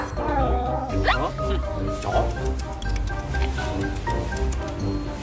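A dog gives a few sharp yips and barks early on, fairly close, then continues more faintly beneath a constant wash of talking and background noise.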